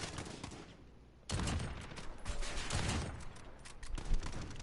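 Gunfire rattles in Call of Duty: Modern Warfare, with quiet sporadic shots at first and then a sudden loud sustained volley of rapid automatic fire.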